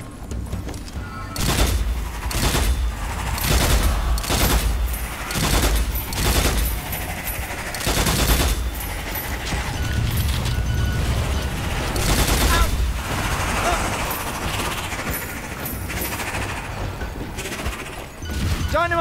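Rapid gunfire and heavy weapon blasts in the Strange Brigade shooter, loud and dense across the whole stretch, with bursts and booms overlapping game voices talking.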